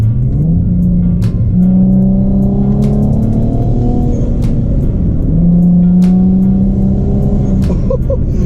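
A custom rear-mount turbocharged Nissan G35 accelerates under boost, with loud engine drone rising and falling through gear changes and sharp bursts of blow-off valve release heard over the steady cabin rumble.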